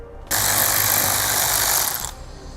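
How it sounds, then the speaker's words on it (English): Ratchet running continuously for about two seconds while backing out screws on the lower air deflector of a 2017 Ford Focus, a close, loud, steady mechanical whir with no talking. "we'll remove the 3 screws that hold it in place"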